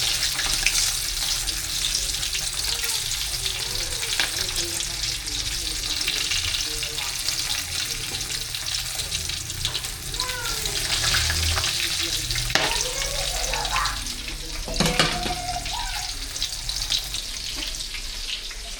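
Food sizzles and crackles steadily in a hot pan, a continuous loud frying hiss with occasional clinks of a utensil and faint voices.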